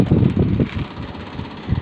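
An electric fan whirs steadily nearby, its rushing drone swelling with irregular low rattling pulses, and no one is talking.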